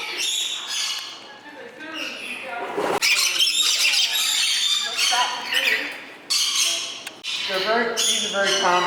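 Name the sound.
birds squawking, common Australian birds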